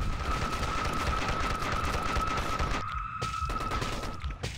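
Rapid continuous gunfire from shooting zombies in the Dead Ahead Zombie Warfare video game, a steady loud barrage with a constant electronic tone underneath and brief gaps near the end.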